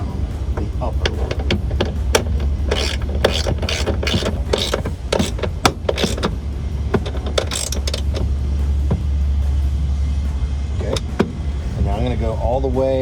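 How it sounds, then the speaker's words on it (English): A ratchet with a 14mm socket tightens a running board mounting bolt on a Silverado 1500 pickup, giving bursts of quick clicking pawl ratchets over a steady low hum, with brief talk nearby. "I'm going to take my 14mm socket, and I'm going to start on the driver's end, and I'm going to go ahead and torque down the upper one"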